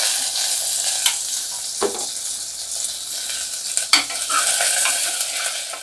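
Curry leaves and drumstick pieces fry in oil in a pan for a Tamil drumstick sambar, giving a steady bright sizzle broken by a few sharp scrapes and knocks of a spoon stirring.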